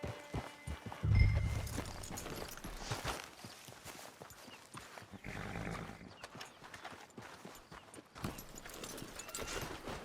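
Horse hooves clip-clop at a walking pace in Red Dead Redemption 2, a steady rhythm of soft thuds at moderate distance, with a brief whinny near the start and a dense game soundscape of music and ambience around it.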